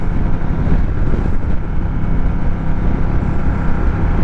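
Honda Rebel motorcycle being ridden, a steady loud engine drone with heavy wind rush on the microphone throughout, no talk.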